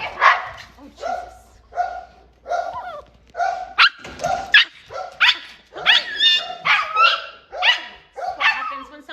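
A dog barks at a passing dog in a close, loud run of barks, irregular at first and then quicker. Some barks overlap and yips are mixed in.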